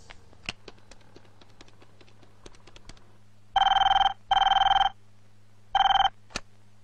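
A telephone being called from a Telugu film scene to Hyderabad gives a run of soft dialing clicks, then three loud, buzzing ring bursts with short gaps between them, clear and close.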